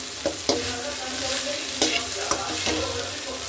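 Okra fry with salt being stirred in a pan: a steady bright sizzle with several scraping strokes of a spatula, close and moderately loud, no voices.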